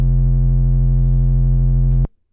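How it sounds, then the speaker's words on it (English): A loud, steady distorted tone, a sine wave pushed through tape saturation until it turns squarish and buzzy, holds for about two seconds alone, then cuts off abruptly into silence. "Something like tape saturation squares the wave quite a lot."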